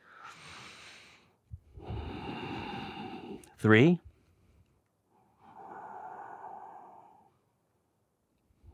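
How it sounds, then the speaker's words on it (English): Deep yogic breathing with audible sound drawn through the nose, several long slow breaths separated by pauses, close, with a brief spoken count and one sharp voiced sound midway. "Make sound with your breath through the nose."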